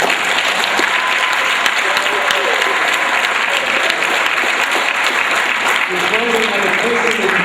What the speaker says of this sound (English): Please join me in a round of applause to show our appreciation.